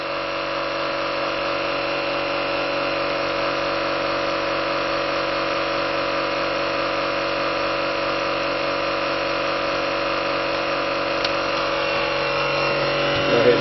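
Small generator engine running at lower revs under an electrical load, a steady, unbroken hum with layered tonal whine that holds evenly throughout, one brief click near the end.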